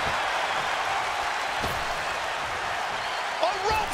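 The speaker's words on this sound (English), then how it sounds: "What a raucous crowd here tonight." Arena crowd in the wrestling game WWE 2K24, a steady dense roar of cheering and applause that fills the whole stretch at an even level, with a commentator's voice faintly over it near the end.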